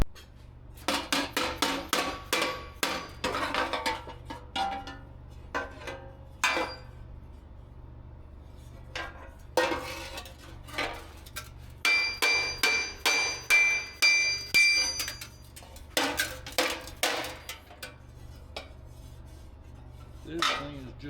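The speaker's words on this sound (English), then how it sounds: "And do some hammering on it." A hammer strikes warped sheet metal on a 1962 Chevrolet C10 under restoration in a workshop, ringing, clanging blows that come in rapid bursts and irregular runs with short pauses between.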